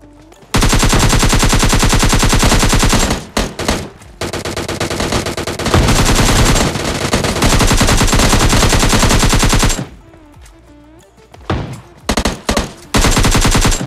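Loud, continuous bursts of AKM rifle fire in PUBG Mobile Lite rattle in long rapid streams, with short pauses and a few final scattered volleys.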